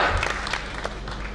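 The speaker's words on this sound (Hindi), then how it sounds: "तालियों की गड़गड़ाहट से उनका साधुवाद हम लोग करें" A crowd at a political speech in Jharsuguda, Odisha, applauds a weaver with a short burst of dense, steady clapping that fades slightly toward the end.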